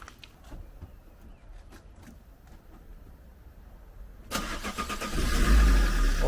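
A car's engine is started with a push button: a few seconds of near silence with faint clicks, then the engine catches abruptly and settles into a louder, steady running rumble close by.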